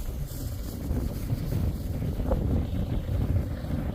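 Strong wind buffets the microphone on a Louisiana bayou, a steady low roar that swells and rumbles throughout, close and loud, with no other distinct sounds.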